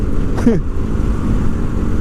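A Yamaha Lagenda 115ZR motorcycle engine drones steadily at close range throughout, with a brief voice sliding over it early on.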